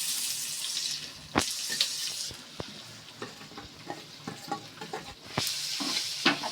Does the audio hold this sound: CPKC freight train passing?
no